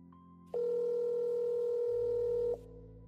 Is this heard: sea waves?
no